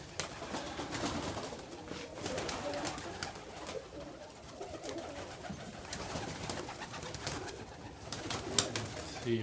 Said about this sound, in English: All the pigeons are super happy.